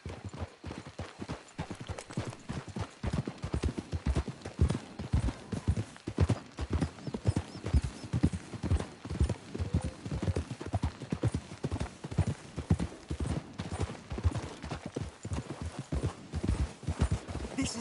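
Horse hooves clip-clop rhythmically and continuously in Red Dead Redemption 2, a steady trotting beat of close, distinct thuds lasting throughout, with faint background sound and little speech.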